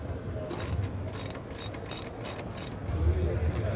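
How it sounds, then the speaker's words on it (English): A ratchet with a 13mm socket turns out a bolt on a Ford Mustang during a hood strut install, giving a run of quick, close clicking bursts over a steady low background rumble. "So first grab a 13mm socket and remove this bolt right here."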